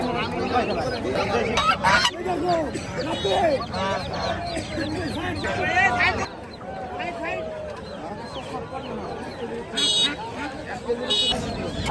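Chinese geese and other fowl at a busy rural livestock market, with loud overlapping honks and clucks close by while people talk over the crowd noise.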